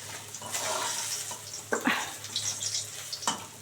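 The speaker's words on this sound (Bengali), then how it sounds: "পুরো একদম ভালো করে কড়া করে ভাজা হয়ে গেছে মাছ" Bok sea fish fry crisp in hot oil, a steady bright sizzle with a few louder spattering pops and stirring scrapes, close and alone.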